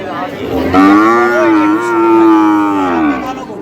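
A single long, loud moo from a bull at a cattle market, drawn out for a few seconds, close by, with faint background noise and no talking.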